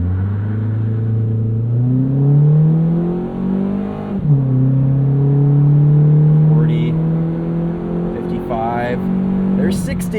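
A 2008 Mitsubishi Eclipse Spyder convertible engine pulls hard from a rolling start, its rising drone climbing through a gear change and revving up again, loud and close, with someone talking over it.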